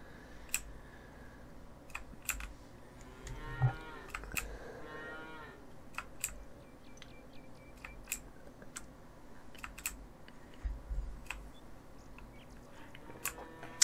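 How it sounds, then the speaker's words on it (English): A cow in the Farmers Dynasty farming game gives a drawn-out moo near the start, surrounded by scattered sharp clicks and soft chewing-like noises throughout, with no talking. "What a well-behaved moo."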